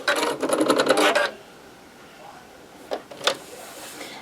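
Sewing machine stitching around a small handbag, a quick burst of rapid mechanical clatter lasting about a second, followed by quiet handling clicks.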